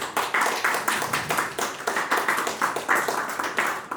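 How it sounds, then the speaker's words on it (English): Scattered audience members clap in a loose, rhythmic pattern of distinct bursts, fairly close and moderately loud, with no voices over the claps. "Can we give her a big round of applause?"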